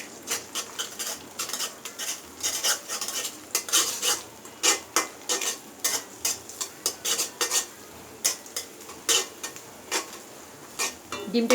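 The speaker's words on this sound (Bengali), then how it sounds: "এখন আমি দুইটা ডিম একটু ফেটে নিয়ে স্ক্র্যাম্বল করে নিব" Two beaten eggs with a little salt being scrambled in hot oil in a frying pan, a busy run of quick metallic scrapes and clinks from a utensil against the pan over a soft sizzle, close and steady.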